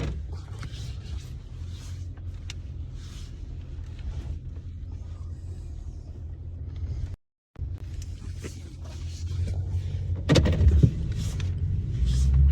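Car cabin rumble from a taxi being driven, a low steady engine and road drone with faint interior clicks and a brief gap, swelling slightly louder near the end.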